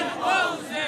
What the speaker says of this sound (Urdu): ایک نعرہ